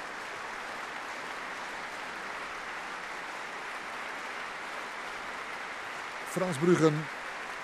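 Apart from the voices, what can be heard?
audience applause after a Haydn symphony concert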